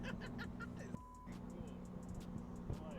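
A Datsun 240Z fitted with a diesel engine idles with a low, steady clattering drone, fairly quiet and close, while people talk over it.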